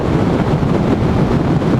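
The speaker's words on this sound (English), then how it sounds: "It's windy again." Strong wind buffets the microphone in a continuous low roar, loud and rumbling without a break.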